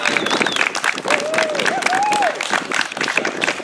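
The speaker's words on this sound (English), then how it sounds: "Let's give her a round of applause." A crowd applauds the grand marshal at an outdoor tree lighting ceremony, steady loud clapping throughout, mixed with scattered cheers, whistles and voices.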